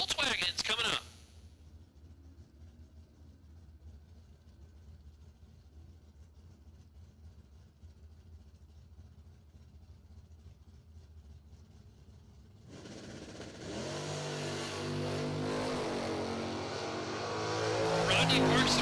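A Volkswagen drag racing car at a drag strip, heard first as a faint low idle for several seconds before a loud engine roar builds and swells toward the end, with an announcer talking over it.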